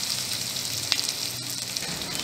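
Mushrooms with spice paste frying in a pan for a Bengali mushroom curry, a constant bright sizzle with a few faint stirring scrapes, close and alone.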